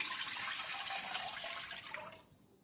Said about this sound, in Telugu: ఇప్పుడు మనం పాలు వేసుకుందాం.